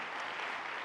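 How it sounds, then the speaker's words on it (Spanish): A church congregation applauds at a Spanish-language service, a brief, fairly faint burst of steady clapping from a crowd. "Denle un aplauso fuerte al Señor."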